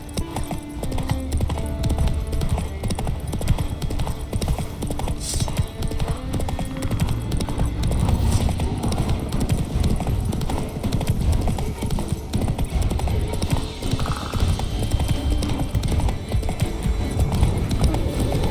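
A horse galloping in The Witcher 3: Wild Hunt, steady rapid hoofbeats on a dirt road running throughout, with occasional brief game voices over them.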